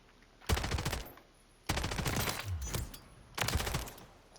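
Three rapid bursts of submachine gun fire in Modern Warfare 2, each a dense rattling volley of about a second, separated by brief pauses, loud and close.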